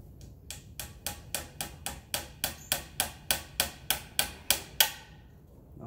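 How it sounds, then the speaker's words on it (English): Close, sharp hammer blows strike in a steady run of about fourteen evenly spaced hits while a hunting hideout is built outdoors, then stop, with no talking. "hammering that in the wrong place"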